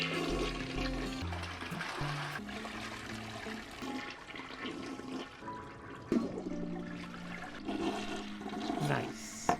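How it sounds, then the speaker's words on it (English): A toilet flushes in the video game Unpacking, a loud rushing gush of water that swirls and drains over several seconds, with gentle background music underneath. "flushing every toilet in every level"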